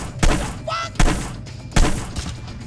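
Three sharp gunshots ring out about a second apart in Hitman: Blood Money, each a loud thump with a short tail, over quiet game ambience.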